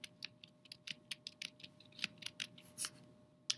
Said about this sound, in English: And then I'm just typing those numbers in.